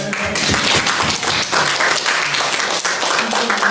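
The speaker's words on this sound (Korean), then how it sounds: "박수 한번 쳐드려요." A small gathering of pastors' wives in a church claps together briefly, a close, uneven patter of hands lasting a few seconds with some light knocks mixed in.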